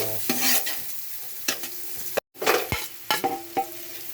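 Onions sautéing in a pan for ginataang langka, with a few close spatula scrapes and stirring clinks over a soft sizzle, broken by a brief silent gap midway.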